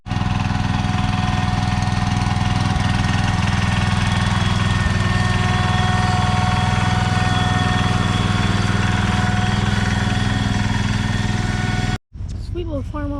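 An antique stationary engine at an old-time farm show runs with a loud, steady, low chugging drone close by for about twelve seconds, then cuts off briefly and picks up again, with no talking over it.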